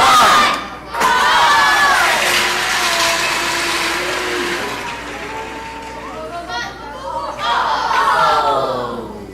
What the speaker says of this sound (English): Cheer for your car and count it down.